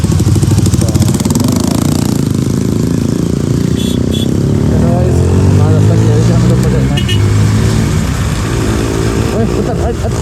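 A loud motorcycle engine with an aftermarket exhaust rumbles and revs nearby with a deep, throaty exhaust note, its pitch rising and falling while someone talks over it.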